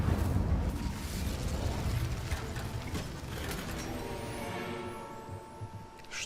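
A fiery Incendio spell cast in Hogwarts Legacy bursts out with a loud, roaring whoosh, then crackles and rumbles and slowly fades over several seconds.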